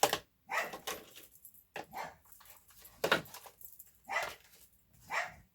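A dog barks repeatedly in short, sharp bursts at irregular intervals, moderately close, with quiet gaps between barks.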